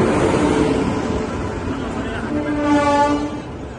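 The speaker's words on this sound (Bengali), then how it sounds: "ঢুকে যাচ্ছে আমাদের ট্রেন, পাটলিপুত্র হামসাফার।" The Patliputra Humsafar train pulls into Varanasi station with a steady rumble and rail noise, a horn-like tone rising near the end amid platform bustle and voices.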